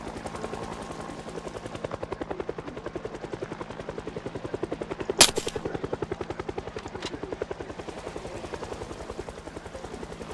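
A helicopter's rotor beats in a fast, steady thump in the video game Project Zomboid, moderately loud and close overhead, with a brief sharp click partway through and no talking.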